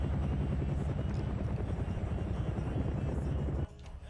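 Helicopters in a video game give off a continuous rapid rotor thump with engine whine, loud and steady, before the sound drops sharply near the end; no voices.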